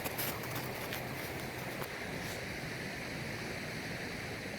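A flooded creek rushes like a river in a steady, dense roar of water that fills the whole stretch without letup, close and unbroken, with no voices over it.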